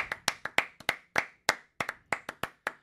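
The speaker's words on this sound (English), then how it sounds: "let me just clap about that" Hand clapping from one person, about a dozen sharp claps in an uneven rhythm, close and alone with no talk.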